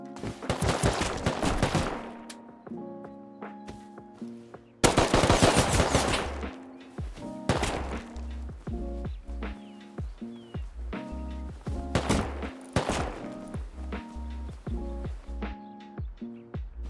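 Gunfire in the survival game Rust: bursts of rapid automatic shots open the scene, then a loud volley, followed by scattered single shots and short bursts with sharp, ringing decays, heard without talking.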